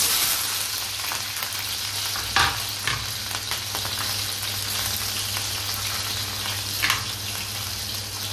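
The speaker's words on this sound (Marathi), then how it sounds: "आता मिरची टाकून घेऊ." Green chillies sizzle loudly and steadily in hot oil for sabudana khichdi, a dense continuous crackle with a few sharper pops and no one speaking.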